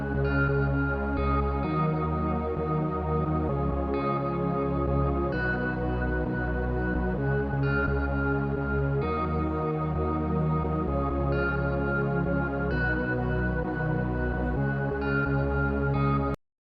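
A lead synth layered with piano, a guitar pad and a warm pad: a dense, loud, sustained chord bed with shifting harmonies every couple of seconds, continuous throughout and cutting off abruptly at the end, no voices.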